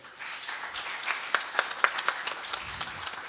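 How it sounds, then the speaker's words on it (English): Audience applause at a law school graduation ceremony, a scattered round of clapping with several sharper individual claps standing out from a softer background patter. "This is where to give that round of applause once again."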